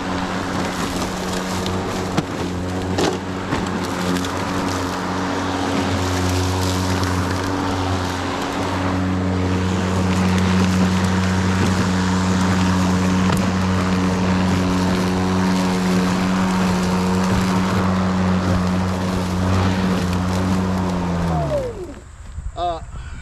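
A Ryobi 40V electric push mower mowing grass gives off a loud, close, steady motor hum and whir, then spins down sharply near the end.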